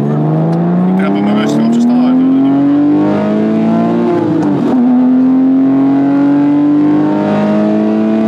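A Porsche 911 Carrera S engine revs up loud and close, its pitch climbing smoothly, dipping briefly at a gear change, then rising again in a strong continuous howl.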